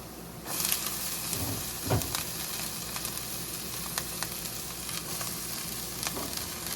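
Kale sizzles and fries in a pan with already-sautéed garlic and onion for a Tamil keerai poriyal. The hiss is continuous and close, with a few brief stirring scrapes.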